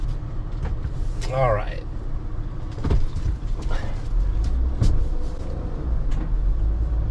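A Leisure Travel Van Unity 24UMB motorhome turns around in a Circle K parking lot, its engine and road rumble steady and close from inside the cab, with a brief voice and a squeak partway through.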